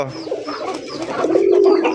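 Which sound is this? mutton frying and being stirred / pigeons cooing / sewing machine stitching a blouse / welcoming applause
pigeons cooing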